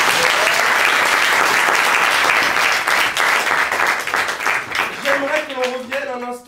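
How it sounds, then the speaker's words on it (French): A studio audience gives loud, dense applause that holds steady, then tapers off as a voice starts speaking near the end. "on peut l'applaudir encore."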